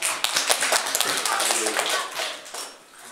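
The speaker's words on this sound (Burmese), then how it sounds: "အားလုံးလက်ခုပ်တီးမှကြားချီးမွမ်းရအောင်" An audience claps in a church gathering, a dense burst of many hands that holds steady and then thins and fades toward the end, with a voice faintly under it.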